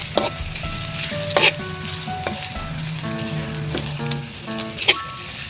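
Food for tuna carbonara sizzles and fries steadily in a pan while it is stirred, with scraping and clinking of the utensil against the pan.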